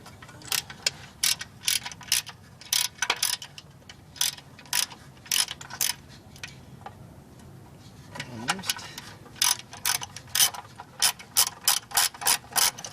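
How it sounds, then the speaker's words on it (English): A hand ratchet fitted with a 10mm socket loosens bolts on Ford Mustang exhaust parts, making bursts of rapid close clicking in repeated strokes with short pauses between them. "So we'll start here with a 10mm socket."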